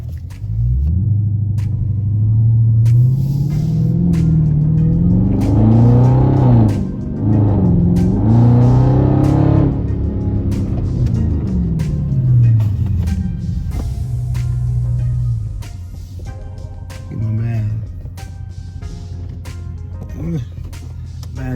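A car with a mid muffler delete revs its exhaust in a deep, rumbling tone, climbing and falling through several close, loud rev sweeps before settling into a steady idle, with voices faintly audible nearby.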